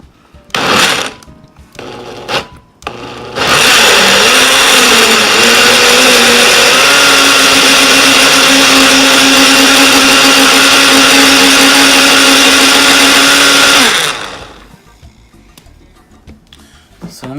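A blender whirs loudly through a batch of fire-roasted tomatillo salsa in a long, steady run of about ten seconds, its motor pitch dipping and settling, with brief knocks and handling noises before and after.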